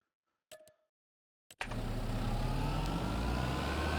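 A Ferguson tractor engine in Farming Simulator starts after a couple of brief clicks, then settles into a steady, loud, close diesel drone that holds evenly to the end.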